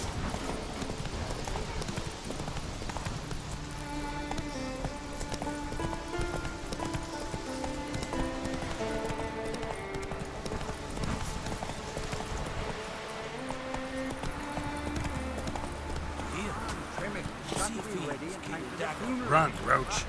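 In The Witcher 3, a horse gallops with quick hoofbeats beneath a constant bed of game music and voices talking, the rhythm partly buried in the mix.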